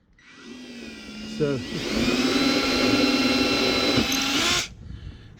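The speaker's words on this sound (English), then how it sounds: "This is about a 4mm drill bit." A power drill with a 4mm bit bores into a jet ski hull as a steady, loud high-pitched whine runs for about three seconds and then stops abruptly. A brief spoken word comes just before it.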